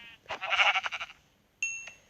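A video game sheep bleats twice in a Skyblock-style world: first a long, wavering bleat, then a short pause and a brief, thinner second bleat, both close and clear with no talk.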